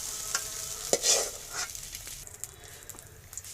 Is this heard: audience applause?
no